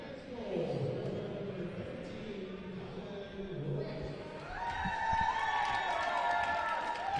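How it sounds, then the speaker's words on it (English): Crowd at a Cincinnati versus Trine hockey game cheers and applauds after a goal, a loud roar of voices and whistles that swells midway and stays high to the end. "Big applause."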